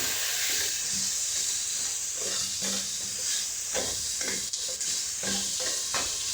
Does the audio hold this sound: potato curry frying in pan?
yes